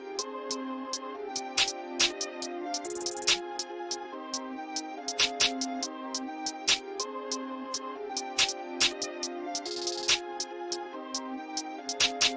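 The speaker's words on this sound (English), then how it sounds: "So altogether, the hi-hats and the rest sounds like this." Drill beat in FL Studio with hi-hats and quick rolls layered over a steady melodic loop, bright ticking hits in dense bursts, loud and continuous with no voices.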